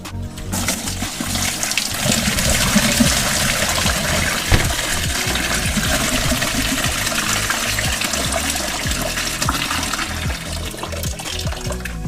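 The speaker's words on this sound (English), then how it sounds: "I just need to find an appropriate sized bucket to drain the water out of." Coolant water drains out of a BMW e36 Compact radiator into a bucket, a steady, loud, continuous gush and splash with no pauses.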